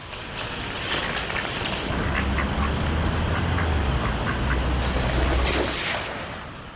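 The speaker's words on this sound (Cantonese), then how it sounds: "呢隻鴨真係識搵食啊" Ducks along a river in Kyoto quack repeatedly in short overlapping calls, fairly close and loud, over a continuous wash of flowing water.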